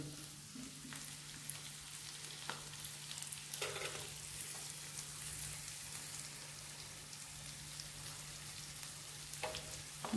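Butter melting in a hot pan for butter garlic prawns gives a steady, soft sizzle and crackle throughout, with a constant low hum underneath and a few brief clinks, no voices.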